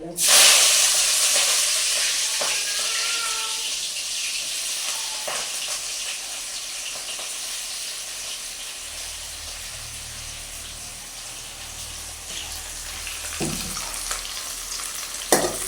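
Sliced onions and green chillies hit hot oil with a loud hissing burst that settles into a steady sizzle, close up, with a few clinks of a utensil and no talk.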